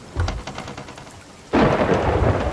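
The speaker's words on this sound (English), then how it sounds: "Lightning storm." Thunder from a lightning storm at sea in Sea of Thieves, with steady rain: a low rumble builds, then a loud, close crack of thunder bursts in and rolls on over the rainfall, with no talking.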